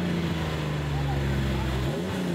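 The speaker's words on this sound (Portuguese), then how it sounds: "Ronco de um motor 6 cilindros." A 1988 Chevrolet Opala six-cylinder engine roars in a steady, loud, continuous drone with a brief dip near the end, heard close up.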